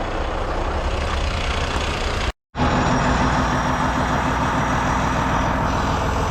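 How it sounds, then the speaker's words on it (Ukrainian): A cold engine idles steadily at a fairly high, even speed, with the choke closed and revs raised automatically, a continuous mechanical drone with a short cut partway through. "Мотор холодний, вона сама починає душити себе, закриває заслонку і піднімає оберти."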